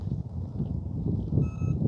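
A short electronic warning beep sounds from a Yu Xiang F280 6S 3D RC helicopter signalling low voltage, a steady tone near the end over low rumbling wind and motor noise.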